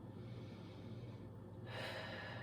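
A long exhale through the mouth during a power yoga session, a soft breathy rush that swells near the end of the short stretch, close and alone with no talk.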